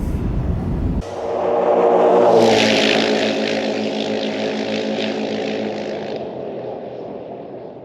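Heavily modified UTV side-by-sides race at King of the Hammers in the desert. A loud engine roar swells as a machine passes close by, then holds as a sustained, throaty drone before easing off.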